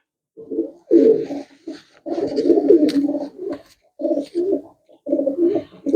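Pigeons coo in a series of close, loud bursts with short pauses between them, heard alone without talk; the birds are pure-breed pigeons offered for sale, black with white eyes.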